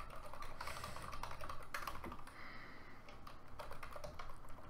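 Keys pressed and held on a computer keyboard during game programming, a steady patter of soft close clicks over a constant hum, no talking.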